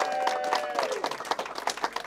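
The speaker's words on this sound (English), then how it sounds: "He got the solve, so give him a round of applause" Studio audience applause on an anime-themed Wheel of Fortune game show after a contestant solves a puzzle: steady clapping throughout, with a host's voice briefly over the start.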